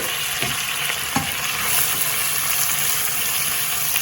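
Chopped small and large onions frying and being stirred in hot oil left from frying dried fish, a steady close sizzle with scraping stir strokes throughout.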